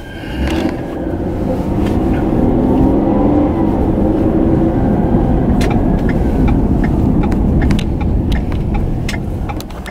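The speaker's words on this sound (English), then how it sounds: "You see, there's three cars coming." Three cars pass on a road one after another, a loud, continuous rush of tire and engine noise that swells and holds steady for several seconds with no talking.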